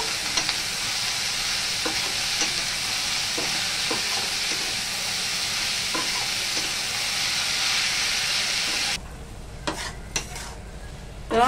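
Bottle gourd, salted with no turmeric or water, cooks in a pan with a loud, constant hiss of steam and sizzle. Near the end it drops quieter, leaving a few scattered stirring knocks and scrapes.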